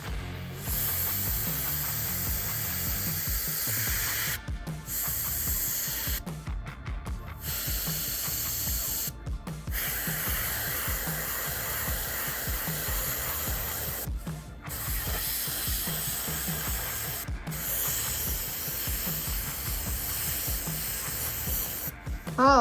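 An Iwata Eclipse HP-CS airbrush sprays paint with a continuous close hiss, broken by several short pauses as the trigger is released and pressed again.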